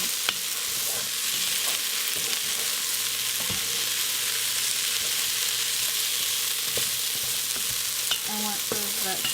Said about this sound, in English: Make sure to keep stirring if you don't want them to burn